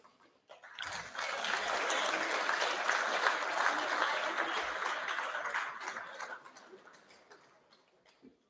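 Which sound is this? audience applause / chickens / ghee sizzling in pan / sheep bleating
audience applause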